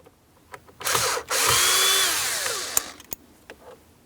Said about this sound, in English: you're going to find that there's two small T8 Torx screws that need to be removed. Let's remove the pair.